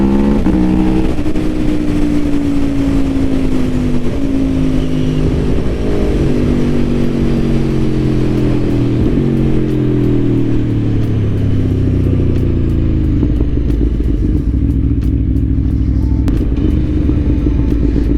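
A 2021 Aprilia Tuono V4 Factory motorcycle accelerating hard on the road, its V4 engine a loud, continuous roar that climbs in pitch through the revs, drops at gear changes and climbs again, with heavy wind rush and no talking.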